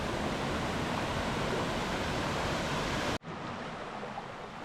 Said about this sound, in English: apparently the last waterfall. Maybe the last waterfall.